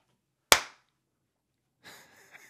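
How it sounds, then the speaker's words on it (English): A single sharp hand clap rings out close and loud, then silence before a faint voice begins. "Clap it."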